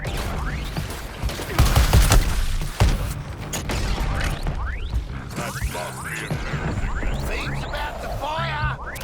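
Rapid gunfire and mechanical clatter from combat in Suicide Squad: Kill the Justice League, crackling bursts mixed with creaks and impacts under ongoing game voices.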